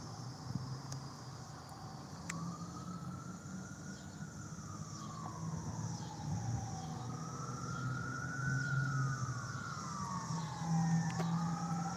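A wailing emergency siren, likely a fire truck, sweeps slowly up and down at moderate distance over outdoor street traffic noise, growing somewhat louder as it approaches; no one speaks.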